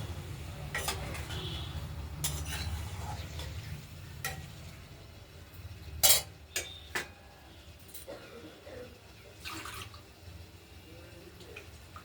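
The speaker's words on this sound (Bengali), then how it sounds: "কষানো আলুর সঙ্গে একটু নাড়াচাড়া দেবো" A spatula stirs fried potatoes with freshly ground garam masala in a pan for aloo dum. Soft frying crackle sits under irregular clinks and scrapes, with a cluster of sharper knocks midway.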